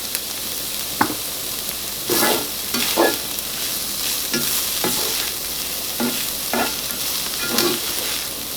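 Ground beef for low-carb bell pepper tacos fries in a pan with a steady, close sizzle. About a dozen spaced scrapes and pushes of a spatula stirring the meat sound over it, and no one speaks.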